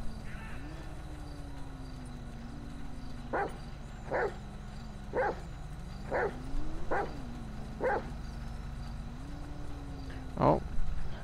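A police K9 in the LSPDFR police game barks in short, evenly spaced single woofs, about seven over several seconds. The barks sound moderately near over a steady engine-like hum, with no talk over them.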